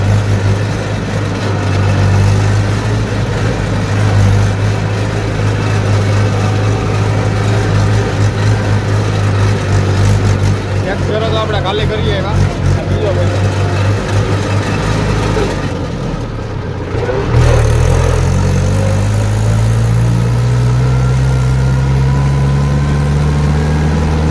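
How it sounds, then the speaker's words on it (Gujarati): A loaded tractor engine drones steadily up close while hauling soil, a deep continuous rumble that dips for a moment and then rises slightly in pitch as it picks up. "ટ્રેક્ટરનો સાઉન્ડ જો"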